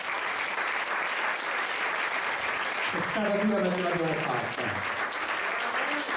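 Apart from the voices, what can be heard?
theatre audience applause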